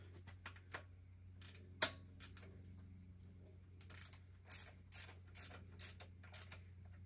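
Socket wrench ratcheting while working on a Cummins X15 truck engine during a rebuild: a few sharp close clicks early, then faint bursts of rapid ratchet ticking over a steady shop hum.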